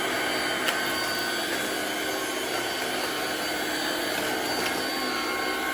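A Black & Decker Powerseries+ cordless stick vacuum runs steadily at close range, a constant high whine and airy hiss filling the whole stretch with no voices.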